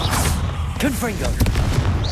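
Explosive Confringo spell blasts in the Hogwarts Legacy video game, a couple of booming bursts with whooshing tails and crackling debris under a busy game soundscape, and a voice calls out during it.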